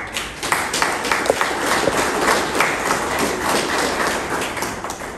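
Audience applause at a meeting welcoming the Superior General and participants, dense steady clapping throughout with a few sharper individual claps standing out.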